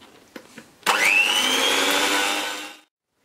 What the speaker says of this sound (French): on fouette ça jusqu'à épaississement